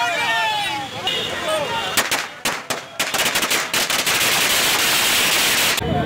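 Firecrackers bursting at a BJP election victory celebration in Jhansi, a dense crackling run of rapid loud pops and bangs that builds after a sharper opening burst, with a fizzing whistle early on and noisy outdoor crowd commotion underneath.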